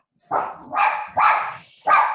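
A dog barks four times close by, loud, sharp woofs spaced roughly half a second apart, with no talking.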